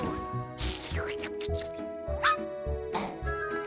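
Small cartoon dog barking and whimpering in a Paris fashion setting, several short yips and whines amid lively music and speaking voices.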